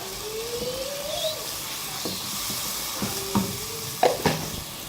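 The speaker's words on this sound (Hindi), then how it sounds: "मसाले की अभी अच्छी तरह भुनाई हो गई है" Spices sizzle and roast in a hot pan for chana dal kofta curry, a soft continuous frying hiss broken by a few sharp clinks and scrapes of a spoon stirring against the metal.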